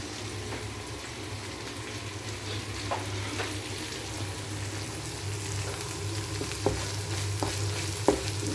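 Chicken liver fries in a pan and is stirred, giving a steady close sizzle under a low hum, with a few soft scraping knocks from the utensil and no talking.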